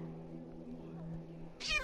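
A cat meows once in the Minecraft video game, a short bright call near the end that follows a low steady hum.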